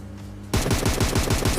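Rapid automatic gunfire from inside a smoke cloud in a battle-royale shooter game, bursting in abruptly after a quiet moment and rattling on in a fast, loud, close string of shots.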